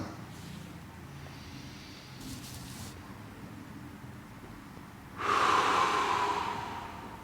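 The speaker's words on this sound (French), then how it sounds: "c'est le type de respiration qu'on peut entendre" Deep, slow breathing during a Pilates exercise: a soft drawn-out breath followed by a louder, airy exhale near the end, close and alone without speech.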